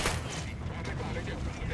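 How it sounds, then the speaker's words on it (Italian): Dense, loud gunfire from Tom Clancy's Ghost Recon rattles continuously in overlapping bursts, with voices murmuring beneath it. "Muta, occhio, dove spari?"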